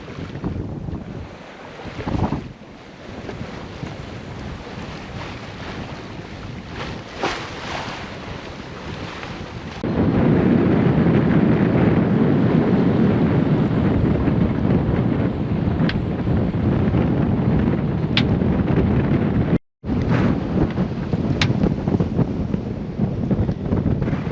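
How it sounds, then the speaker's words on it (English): Strong wind roars across the microphone aboard a sailboat under reefed main, with waves washing past the hull. The wind is loud and steady, then rises sharply partway through, with one brief dropout. "The wind's really picked up out here."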